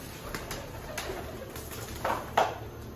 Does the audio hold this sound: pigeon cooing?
yes